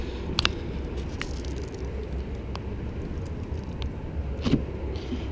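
The auto-leveling system on a 2017 Keystone Outback 326RL travel trailer runs with a steady low motor rumble and hum, broken by a few faint clicks.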